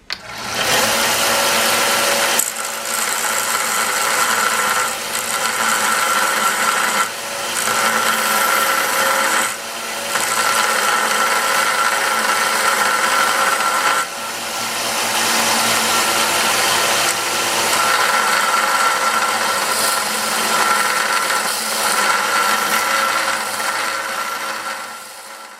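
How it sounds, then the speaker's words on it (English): A small grinder cuts down a custom chef's knife handle, whining loudly and continuously at close range across the whole stretch, with brief dips where the tool eases off the workpiece and no voices. "we're going to go ahead and cut this down. We're going to use this little grinder here."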